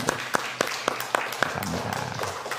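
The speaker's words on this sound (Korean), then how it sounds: "우리 박수로 환영하겠습니다" A church congregation claps to welcome a guest during a Sunday service, a few distinct, evenly spaced claps from a small group that fade into murmuring.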